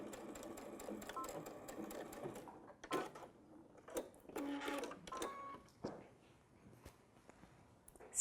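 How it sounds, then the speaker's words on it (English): A sewing machine stitches a seam while extending a garment waistband, running in short whirring bursts with pauses between them, fairly quiet and close. "Stitch that seam"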